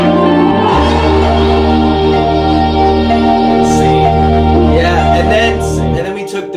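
An acoustic section of a pop arrangement built from layered pianos with no drums, playing sustained chords and a melody loudly and steadily for several seconds before cutting off near the end.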